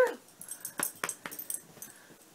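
A dog lets out a quick run of soft whimpers and yips, fairly close but quiet, fading toward the end.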